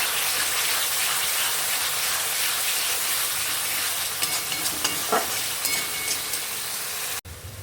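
Chicken masala stir-fried with turmeric, chilli powder and tomato sauce in a pan, giving a continuous loud sizzle and hiss with some scraping stirs toward the end.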